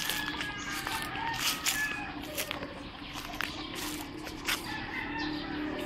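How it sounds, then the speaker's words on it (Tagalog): Chickens cluck and squawk in a rural yard, with several short, uneven calls from a nearby flock over a soft outdoor background. "Ito yung mga manok ni Jesus."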